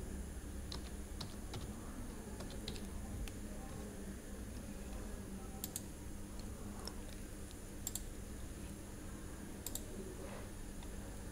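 Steady keyboard typing, a quick run of key clicks entering a search for Google Chrome in the Firefox web browser on Ubuntu 24.04 LTS, close and fairly quiet over a low background hum.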